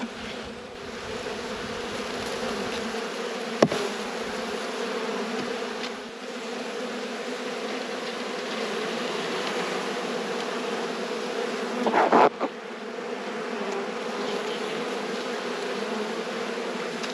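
Honey bees buzz in a dense, steady drone during a late-season beehive inspection, close and continuous, with a couple of faint knocks and rustles.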